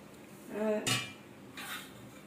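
A metal steamer pot for steamed rice dumplings is handled nearby, with a ringing clank followed by a softer scrape and knock, fairly quiet with no talking.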